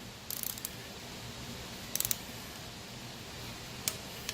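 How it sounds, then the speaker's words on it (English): A ratcheting torque wrench on EJ25 engine bolts, three short bursts of rapid clicks spaced a couple of seconds apart, close and fairly loud over a low hum, with no talking. "I just want to verify final torque on each one of these bolts"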